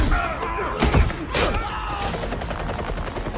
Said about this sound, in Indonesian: terjadilah baku tembak yang pastinya dimenangkan oleh Yanto dan kawan-kawan